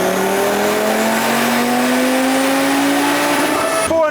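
A 2024 Audi RS3 with a JB4 tune and stock downpipe runs hard on a chassis dyno. The engine note is loud and continuous and climbs steadily in pitch, then cuts off abruptly at the very end.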